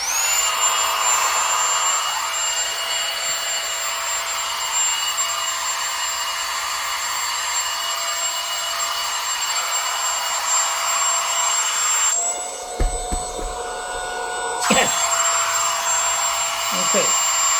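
A small battery-powered mini air pump blows air with a steady high-pitched whine and hiss, briefly cutting out and restarting near the end.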